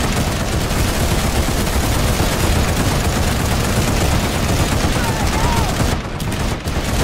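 Continuous video game gunfire rattles without a break as a dense, loud stream of rapid shots, with a voice talking faintly underneath.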